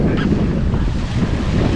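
Strong wind buffets the microphone aboard a sailboat off the coast between Sète and Cap d'Agde, a close, continuous roar with a wash of water beneath it and no talking.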